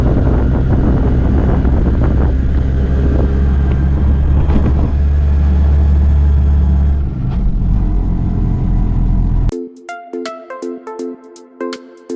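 An auto rickshaw ride toward the Marleshwar temple: a steady, loud engine and road rumble with wind buffeting the microphone for about nine seconds, then abruptly giving way to music.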